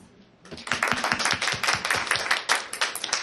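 A small group claps at a school celebration, the applause starting after a brief quiet moment and carrying on steadily, fairly close and moderately loud.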